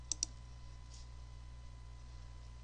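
Two quick, faint computer mouse clicks close together at the start, over a quiet room hum while configuring Office 365 settings.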